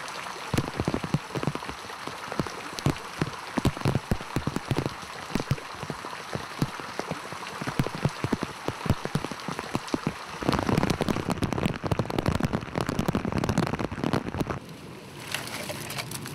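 Heavy typhoon rain pours steadily, a dense hiss of drops drumming on surfaces, growing louder and rougher in the final seconds, with no talk.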